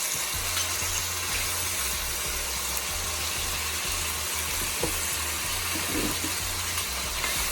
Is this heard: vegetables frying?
yes